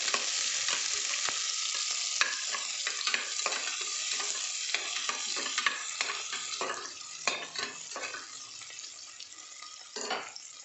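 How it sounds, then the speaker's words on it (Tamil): Onions with cloves frying in a pan for banana flower biryani, a continuous sizzle with frequent spatula scrapes and light clinks of utensil on metal, close and steady. "வெங்காயம் நல்லா ப்ரௌனாக வதங்கிடுச்சு"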